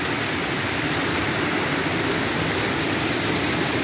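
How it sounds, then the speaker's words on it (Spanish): A small stream in the countryside of Morazán, El Salvador, carrying a large volume of water, rushing with a steady, dense broadband roar that stays constant throughout, close and loud, with no voices. "esta gran cantidad de agua que fluye en este riachuelo"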